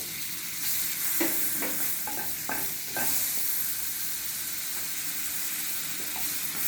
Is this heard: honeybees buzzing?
no